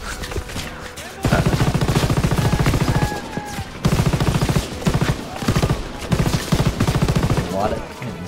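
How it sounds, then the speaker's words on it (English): A minigun in the World War II shooter Call of Duty WWII fires in long, loud, rapid bursts, pausing briefly between volleys, with a faint voice talking in the background. "some of these miniguns, they take super long to reload"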